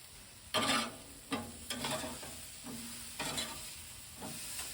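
A burger patty sizzling on a grill and being flipped, soft frying hiss with four or five brief scraping bursts from the spatula, close and fairly quiet, with no talking.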